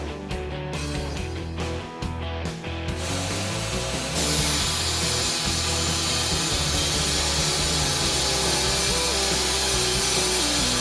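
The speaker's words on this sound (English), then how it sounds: "Textile samples are clamped and then targeted repeatedly with angle grinder sparks at close range." Angle grinder throwing sparks at close range onto clamped textile samples: a loud, continuous grinding whine that starts after a few brief bursts and then runs steadily, with a harsh hiss rising partway through.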